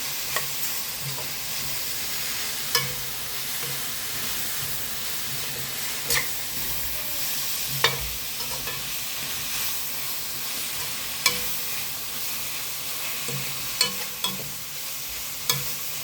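Radish, onion greens and turmeric stirred in a frying pan, a steady sizzle and hiss with periodic scraping clicks from the spoon against the pan, moderately close and without speech.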